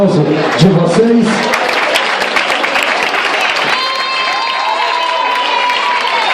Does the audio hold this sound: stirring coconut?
no